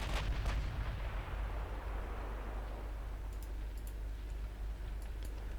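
Naval gunfire in the warship game Ultimate Admiral Dreadnoughts, a few booming shots early on that leave a low, rolling rumble, followed by faint ticking clicks, with no talk.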